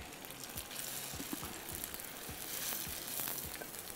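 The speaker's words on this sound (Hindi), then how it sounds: "शैलो फ्राई कर लेंगे" Kebabs shallow frying in hot oil give off a steady, close crackling sizzle with scattered pops, continuous for the whole stretch with no voices.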